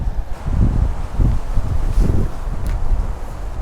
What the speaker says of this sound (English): Whoa, that's not strong wind. I don't know what is.